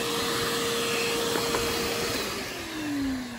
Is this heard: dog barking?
no